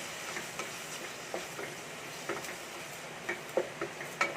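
Thinly sliced onions fry in a pan for prawn rice, giving a steady, faint sizzle broken by scattered small crackles and pops, with no voices.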